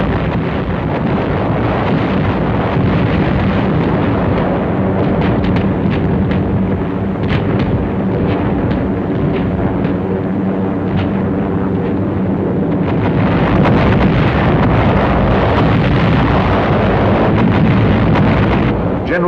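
Bombs from a heavy bomber attack exploding during Operation Cobra in Normandy, a continuous loud rumbling roar of blasts and wind-buffeted noise lasting throughout, dense and distant-sounding.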